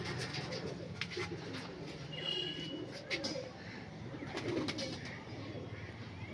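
A green-eyed Panjabi Malwai pigeon coos in low, rolling murmurs over a steady wash of background noise, with indistinct voices nearby.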